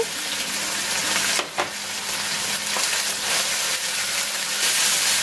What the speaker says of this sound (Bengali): আদা রসুনটাকে একটু কষিয়ে নিচ্ছি যাতে আদা রসুনের কাঁচা গন্ধটা দূর হয়ে যায়।